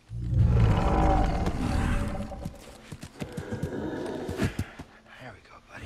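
A large cow-like creature in Star Wars Jedi Survivor on the planet Jedha gives deep, loud lowing groans close by, then a run of soft thumping steps or clops follows.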